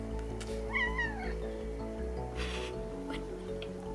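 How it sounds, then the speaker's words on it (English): A neighbor's cat meows clearly and fairly close, a pair of rising and falling cries early on, over a steady low background hum, with no talking. "neighbor's cat."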